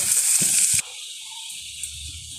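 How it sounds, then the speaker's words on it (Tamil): Onions frying with curry leaves and fennel seeds in a pan, a bright, loud sizzle that abruptly settles into a softer, steady hiss with faint low rumbling underneath. "வெங்காயம் நல்லா பொரியட்டும்."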